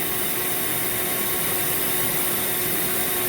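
Dremel 4000 rotary tool carving wood for a snowman, a dense, steady high-speed whine and grinding hiss, loud and close, unbroken throughout with no talk.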